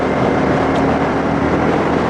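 A Jawa 42 motorcycle engine running at speed in 5th gear, a steady loud drone with constant rumble and wind noise throughout, no voices.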